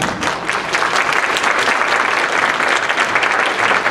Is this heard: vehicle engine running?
no